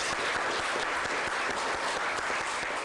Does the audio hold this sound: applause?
yes